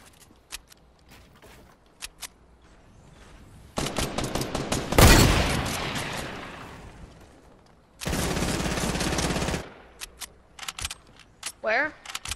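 Gunfire in a first-person shooter video game tears through walls in sharp bursts, with rapid shots, a heavy blast and a long sustained volley, loud and close, while players talk between the bursts.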